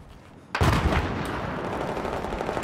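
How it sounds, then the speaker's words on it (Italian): A grenade goes off in a Battlefield 4 competitive match, a sudden loud blast after a quiet moment, followed by a sustained roaring rumble of gunfire and debris that fills the rest of the moment. "lancio le granate."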